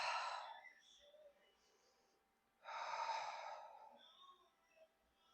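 Deep breaths during a yoga vinyasa flow, two long airy exhalations, each followed by quieter pauses, heard close and alone with no talk.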